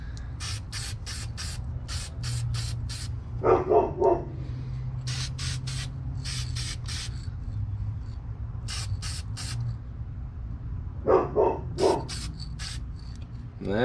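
Aerosol paint sprayed in bursts as a light coat of Ford Blue goes over black primer on the engines of an AMT 1934 Ford pickup model kit, a run of short hissing blasts, with a dog barking twice in the background over a steady low hum.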